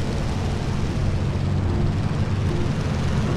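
Aircraft engines droning steadily through a hammerhead stall maneuver in the War Thunder combat flight game, a constant, full-bodied roar with no voices over it.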